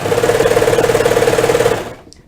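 A serger overlock sewing machine stitching sweater fabric runs in a fast, even mechanical chatter, loud and close, for nearly two seconds before winding down and stopping.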